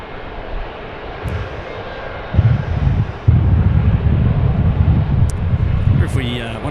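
A jet airliner on runway 16 right at Sydney Airport, taking off, rumbles as a steady low roar that swells louder partway through and holds, heard from a distance amid some wind noise.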